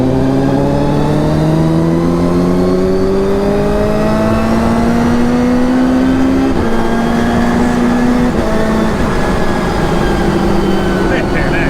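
A Fiat 500 fitted with a Suzuki Hayabusa motorcycle engine revs hard through the gears, loud rising whines climbing and shifting repeatedly, heard as playback with a voice talking over it.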